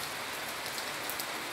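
Steady rain falling outdoors, a dense, even hiss of drops on surfaces that fills the whole moment with no voice over it.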